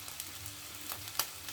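Meat frying in a Cuisinart non-stick skillet gives a steady, soft sizzle with scattered small pops and crackles, fairly quiet and continuous with no talking.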